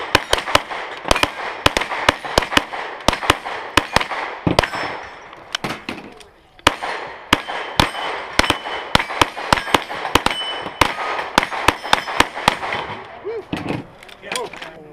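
Repeated shotgun blasts at an outdoor plate shoot at Wallum Lake, sharp loud reports in irregular bursts across the whole stretch with a brief lull midway, voices faintly under the shots.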